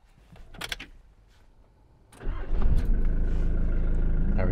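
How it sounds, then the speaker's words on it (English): A Mitsubishi Delica engine cranks and catches after a quiet stretch, then settles into a steady, loud idle close by that carries on to the end. "First things first, we'll start the engine."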